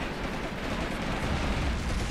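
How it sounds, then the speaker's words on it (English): Artillery fire in the WWII tactical game Graviteam Tactics, a dense, rumbling barrage of booming blasts that fills the whole short stretch with no gaps. "Very close artillery there."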